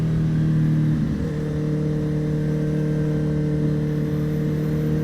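A 2018 Honda CB1000R motorcycle engine hums steadily at highway speed, its pitch shifting as a gear change settles into a constant droning whir with wind noise, close and continuous.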